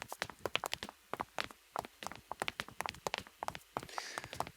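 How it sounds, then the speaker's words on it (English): Layered footsteps on hard marble and concrete form a brisk, steady walking rhythm of sharp heel-and-toe clicks, close and clear with no talking. "we're looking at some footsteps, hard marble walk, and some footsteps, concrete walk"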